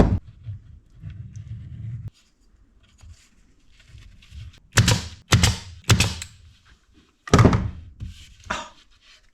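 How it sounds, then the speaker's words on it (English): A Cadex pin nailer drives 23 gauge headless stainless steel pins into wood aboard a wooden boat, giving several sharp close snaps in a quick irregular group after a soft rubbing handling noise. "It shoots stainless steel headless 23 gauge pins."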